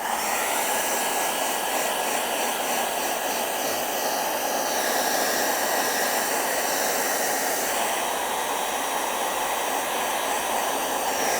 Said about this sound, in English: Okay, we're ready to dry it. Quick hair dryer.